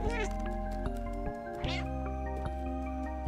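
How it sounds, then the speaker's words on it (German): A cat in the game Stray gives short meows, one near the start and another midway, set over a steady tonal musical backdrop with faint talking. "Katze ist zufrieden."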